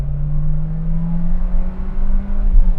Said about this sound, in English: What I'm willing to do though is rev this engine out.